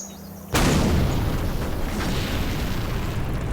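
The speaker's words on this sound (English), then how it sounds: "I did the cool thing where I looked away from the explosion." A fuse-lit explosion in the pirate video game Caribbean Legend goes off with a sudden loud boom, followed by a sustained rumbling, crackling roar that fills the following seconds.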